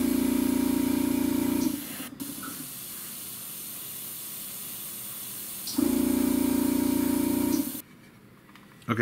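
An aerosol can sprays red paint over a black base coat, giving two long, close, loud hissing bursts separated by a few seconds of quiet.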